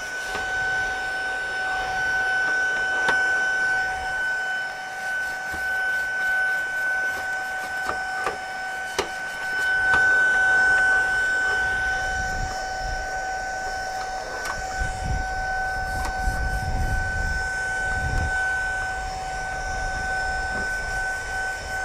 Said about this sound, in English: then vacuum that dust up